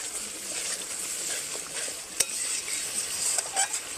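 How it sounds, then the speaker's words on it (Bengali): Masala paste with added water being stirred and fried in a kadai for biryani, giving a continuous close sizzle with soft scraping strokes and a sharp metallic tap of the spoon against the pan. "জলটা দিয়ে দিয়েছি এবার মশলাটা ভালোভাবে কষানো হবে"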